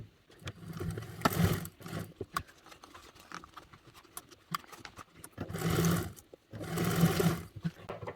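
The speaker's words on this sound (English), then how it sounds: "we are sewing this together with a 1/4 inch seam allowance" A domestic sewing machine stitches the exterior and lining loops of a fabric bag together at a quarter-inch seam, in three loud bursts of steady whirring separated by quieter handling noises.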